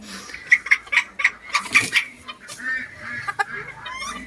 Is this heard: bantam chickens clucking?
yes